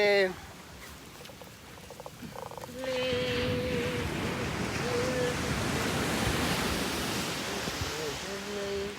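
Sea waves wash steadily onto a Thai shore, a broad rushing surf that swells after a quieter start and continues throughout, with a few brief tonal sounds near the beginning and end.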